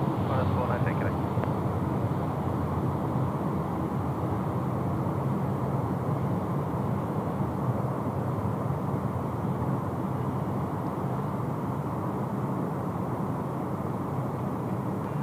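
An aircraft departs in wet weather at Sydney Airport. A continuous broadband roar and hiss holds steady for the whole stretch, with rain noise blending into the distant engine rumble.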